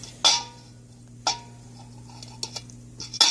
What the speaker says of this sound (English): So I'm going to finish stirring this up